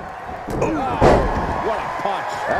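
A wrestler is thrown and slammed down in a wrestling match, making a heavy thud under continuous excited commentary, with lighter impacts around it.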